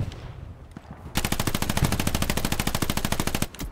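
Sustained machine gun burst in the World War II shooter Hell Let Loose, a rapid even stream of shots lasting about two and a half seconds, loud and close, after a quieter stretch of background battle noise.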